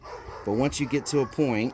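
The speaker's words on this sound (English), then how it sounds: "sorry for the dogs" Dogs bark in a few quick, close yips and bow-wows while someone talks over them indoors during a Ryobi 18-volt string trimmer repair.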